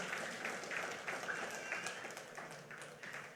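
A church congregation gives a short burst of steady applause for the Lord, faint and distant, a few seconds of mixed clapping with a murmur of voices.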